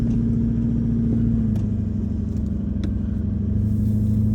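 A car creeps along gently in first gear on a rough track, its engine holding a steady low rumble at low revs with a slight shift in pitch midway, close and continuous with no voices.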